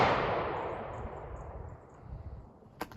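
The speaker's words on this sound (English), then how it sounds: "if you hear shooting in the background" A single loud gunshot from a neighbor's target practice in the North Carolina countryside, a sharp crack that decays slowly over several seconds, followed by a faint distant second report near the end.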